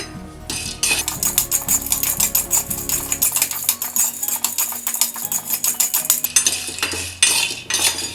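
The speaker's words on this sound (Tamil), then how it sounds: "இப்போ நான் வந்து 25 கிராம் பட்டை எடுத்துருக்கேன். இதையும் வந்து நல்லா வறுத்துக்கலாம்." Cinnamon sticks, 25 g, dry roasting in a pan for a mutton chukka masala powder produce rapid, close clattering rattles and scrapes from stirring, with short pauses between bursts.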